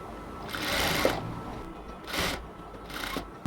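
A sewing machine stitches piping onto a cotton kameez in three short bursts of rapid whirring, separated by quiet pauses, close and fairly loud with no talking.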